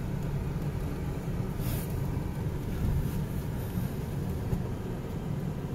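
A 1990 Mazda B2200 pickup engine idles cold at about 700 RPM with a steady, smooth, close low rumble that holds even throughout, with no talking.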